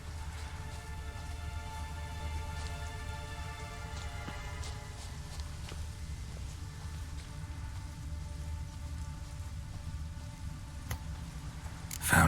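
Steady rain in the video game The Witcher 3: The Wild Hunt patters continuously across a surface, a soft even wash of drops with a low rumble underneath and no talking.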